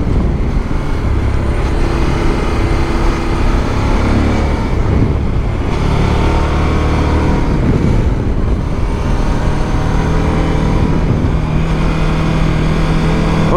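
Suzuki V-Strom 1050 DE motorcycle ridden hard on an open road, a loud, steady engine roar with rising and falling revs and wind rush throughout, no voices.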